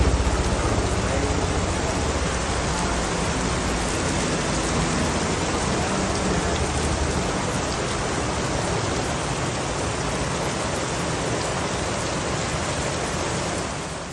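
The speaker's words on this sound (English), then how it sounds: "Here we are in the rain." Steady heavy rain pours down in a dense, even hiss that fills the whole stretch at constant loudness, with no other distinct sounds standing out.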